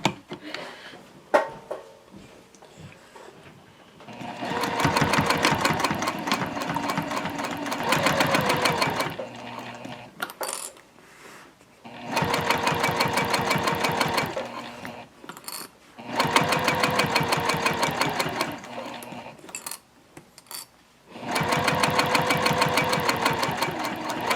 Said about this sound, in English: I'm going to sew with a stitch length of 3 because now I'm dealing with a little bit of bulk here.